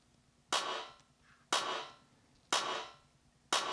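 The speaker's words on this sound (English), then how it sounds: "I added a clap with the classic gated reverb to it" Four evenly spaced hand-clap hits with classic 80s gated reverb, each a bright burst of reverb that sustains briefly and then cuts off abruptly, heard alone.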